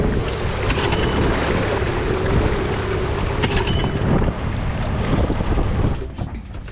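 Strong wind buffets the microphone and waves wash past as a sailboat is towed back by another boat. A steady motor rumble sits beneath the wind noise the whole time, and the sound eases near the end.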